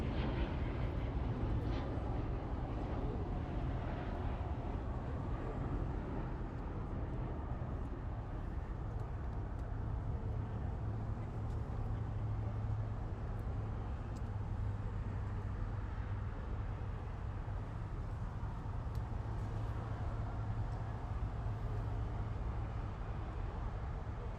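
A Lynx Air Boeing 737 MAX, formerly flown by Norwegian, lands on the north side at Los Angeles International Airport, heard as a faint, steady, distant jet roar.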